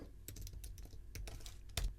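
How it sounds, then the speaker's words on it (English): Keystrokes on a computer keyboard while pressing the Command G shortcut in Ableton Live, a handful of quick, light clicks at close range with one slightly louder tap near the end, no talking. "I'm going to hit Command G on my keyboard"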